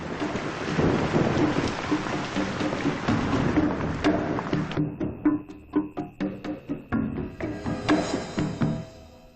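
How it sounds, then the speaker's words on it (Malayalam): Dense roar of heavy rain that gives way to a sequence of sharp separate impacts, with a low rumble like thunder beneath. "മഴ ഉറയ്ക്കുന്ന ലക്ഷണം."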